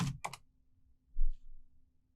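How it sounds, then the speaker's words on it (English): Quick typing on a computer keyboard: a short cluster of clicky keystrokes, then a single firmer key press after a pause, close and quiet in a silent room. "just type in help and enter"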